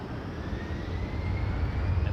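A plane taking off from a runway at Montréal-Trudeau Airport, heard as a distant, steady low roar of engines with a faint rising whine, gradually growing louder.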